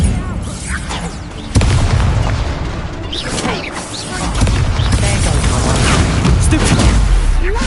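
An Incendio fire spell in Hogwarts Legacy, heard as a sharp magical burst and whooshing crackle amid loud, busy combat effects and a spoken incantation.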